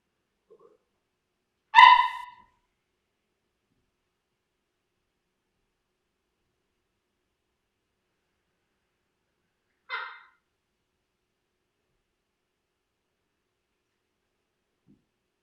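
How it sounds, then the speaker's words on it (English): A puppy gives a single sharp bark, followed several seconds later by a second, softer yip, each short and isolated against near silence. "There's nothing more relaxing than a puppy bark."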